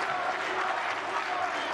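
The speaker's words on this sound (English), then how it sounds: "It's crowd against crowd as well. It's getting louder and louder." A tennis crowd at the 2025 Billie Jean King Cup cheers and applauds in a steady, dense roar of clapping and voices that holds loud throughout without pause.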